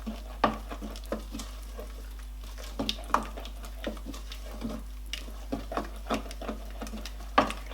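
Spicy Nigerian cow foot stew with dry chili stirred in a pot, soft scraping and patter repeating in loose strokes at close range, with a faint sizzle underneath.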